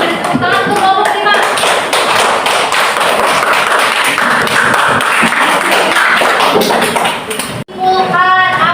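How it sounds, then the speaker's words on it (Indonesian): A classroom of students in an Indonesian Islamic religious education lesson applauds a student group: dense, loud clapping runs for about six seconds, with a voice speaking just before and right after. "beri tepuk tangan untuk kelompok 5"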